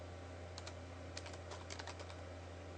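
Someone types a short command on a computer keyboard under Linux, giving a few scattered clusters of light key clicks over a steady electrical hum.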